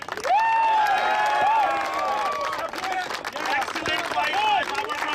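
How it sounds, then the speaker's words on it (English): Applause and cheering from a crowd at a cricket tournament final, a burst of clapping mixed with loud hubbub, whistles and voices talking over it. "Big round of applause for United 11."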